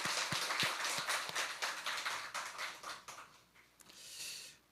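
A church congregation applauds the choir at a Sunday worship service, with scattered, uneven claps that are fairly close and moderate in volume and thin out after a few seconds.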